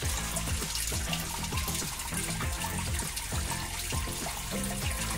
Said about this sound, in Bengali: আমি মাছগুলি ধুয়ে নেই।